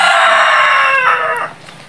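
A rooster on a farm lets out one loud, close crow that holds for about a second and a half, then trails off into quiet.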